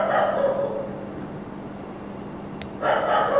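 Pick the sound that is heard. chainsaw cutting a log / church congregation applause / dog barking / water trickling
dog barking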